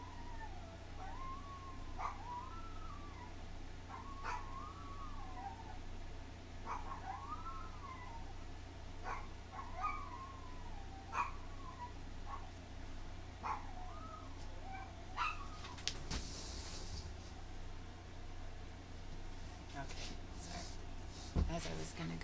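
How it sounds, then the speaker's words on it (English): Dogs howl in a series of repeated, wavering drawn-out calls at moderate distance, rising and falling over a steady background hum, with a brief sharper noise burst near the end. "now the dogs are going to howl."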